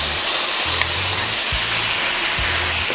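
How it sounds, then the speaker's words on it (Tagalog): Pork browns in a pan for Filipino binagoongan, cooked with tomatoes and bay leaf, giving a continuous bright sizzling hiss with a few low thumps mixed in. "Papupulahin ko lang ng konti ang ating pork."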